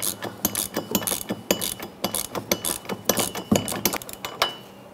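A ratchet wrench tightening a front shock absorber nut on a 2002-2008 Dodge Ram 1500, with bursts of quick metallic clicks in uneven strokes, close and clear with no talk.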